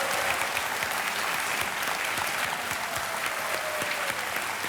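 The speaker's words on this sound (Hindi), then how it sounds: "एक बार फिर तालियां बज रहे हैं आपके लिए, और तालियां बजती रहें जोर से" Studio audience clapping on the Hindi TV quiz show hosted by Big B, a continuous even wash of applause held at a steady level, with faint voices underneath.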